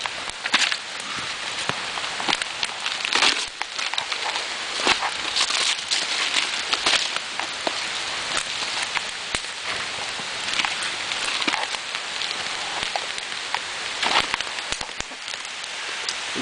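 Heavy rain pours down steadily, a dense continuous hiss of drops striking surfaces nearby with scattered louder splats, no talking heard.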